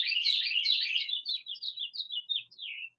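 Several birds sing outdoors in a quick run of high, bright chirps and trilled tweets, close and clear, starting as a dense overlapping chorus and thinning into separate short phrases with no voices.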